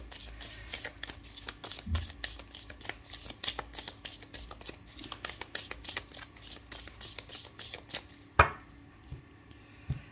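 Tarot cards shuffled by hand for a reading, a long run of crisp, rapid riffling flicks in quick rhythmic bursts, close and fairly quiet, with one sharper tap near the end and no talking.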